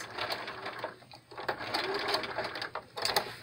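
A sewing machine chain-stitches around a medical mask cover, running in a steady, busy whir at close range with small surges and dips in speed and no talk over it.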